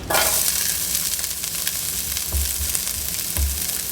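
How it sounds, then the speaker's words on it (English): Chopped vegetables and parsley searing in a hot pan for an egg roll pancake, a loud continuous sizzle close by with occasional low thumps of the pan, no voices. "Now that our pan is hot, we're gonna add all of our chopped vegetables to it"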